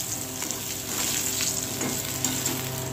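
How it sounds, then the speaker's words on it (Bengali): Whole spices, cinnamon, clove and cardamom along with cumin, dried chilli and bay leaf, sizzling in hot oil in a pan, a close, continuous crackling fry with faint stirring and no voices. "ডালচিনি, লবঙ্গ, এলাচ ফোড়ন দিয়েছি।"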